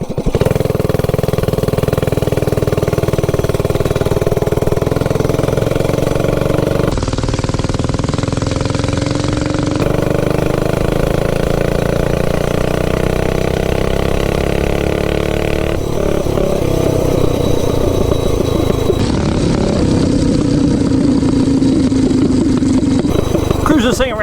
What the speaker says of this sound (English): Cruise this thing around for a minute, kind of get it broke in a little bit.